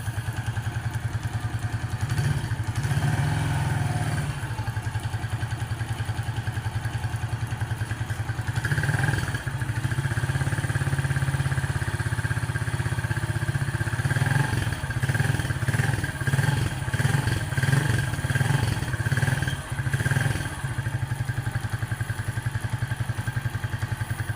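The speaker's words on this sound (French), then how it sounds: "Alors c'est une KTM" A KTM motorcycle with about 752 km on it, barely past its break-in, sits idling with a steady low engine drone that runs the whole time, along with occasional clattering knocks and thuds.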